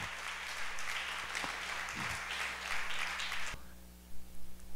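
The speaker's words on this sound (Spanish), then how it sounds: "Dale un aplauso fuerte a Él" A church congregation applauds at a sermon, a dense wash of clapping under a steady low hum that cuts off sharply near the end, leaving a few low thumps.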